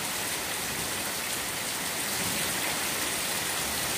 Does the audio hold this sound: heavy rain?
yes